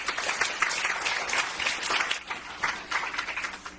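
An audience claps to welcome a speaker to the stage at a lecture. The applause is a dense, sustained wash of many hands that keeps going without a break.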